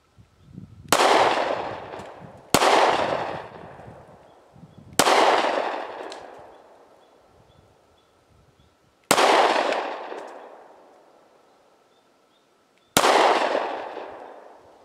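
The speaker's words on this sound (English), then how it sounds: "I'm going to take the 9mm out and I'm going to fire off a clip's worth of rounds at the left-hand target" A 9mm pistol fired at a target on a range, five sharp loud shots spaced irregularly, each with a long ringing decay, no talking.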